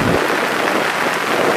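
Heavy rain pours steadily over a drained paddy field in Kerala, a dense, loud, continuous hiss of drops hitting water and ground with no pauses, close and filling the whole moment without any voices.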